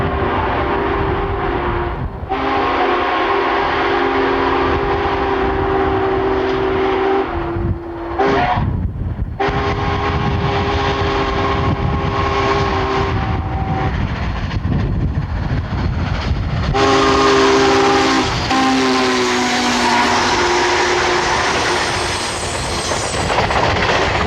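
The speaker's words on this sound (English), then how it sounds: "We see the impressive consist winding its way east through western Missouri." Union Pacific 844 steam locomotive pulling a long excursion train east through western Missouri, a loud continuous rumble of the passing consist with sustained whistle blasts sounding over it, no talk.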